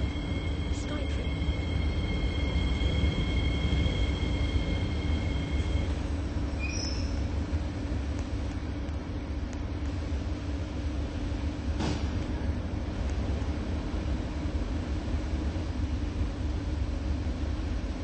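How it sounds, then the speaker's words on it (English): A train in the Roblox railway game rolls into a platform on the Owenton & Waterfront Railway line, a steady low rumble with a faint hum that runs throughout. Occasional short tones rise above it and a voice speaks over it. "The train approaching is for Skytrain."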